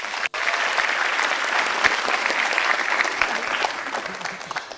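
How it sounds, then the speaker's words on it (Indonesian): Audience applause at an Indonesian aviation regulation forum, a dense, steady wash of many hands clapping close by, with a brief dropout near the start and no talking over it. "silakan langsung tepuk tangan dong teman-teman"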